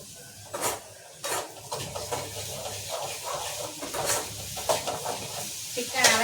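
Fennel, cumin, pepper, ginger, garlic, tomato and onion are sautéed in a pan for a Sunday-special kuzhambu, a steady sizzle with repeated spoon-on-pan scrapes and clinks, close and moderately loud.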